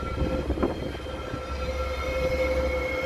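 Metro commuter train pulling out of Union Station in Chicago, a steady low rumble of rail cars rolling along the track with a brief metallic squeal, heard close and continuous without talk.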